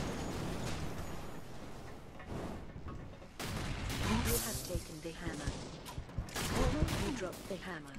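Grenade launcher blasts and gunfire in the shooter game Loadout, with heavy booming bursts over continuous battle noise and a voice talking underneath.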